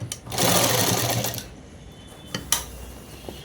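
A sewing machine stitches a shirt in a steady mechanical whirr for about a second, then stops, leaving a few sharp clicks and knocks from the machine.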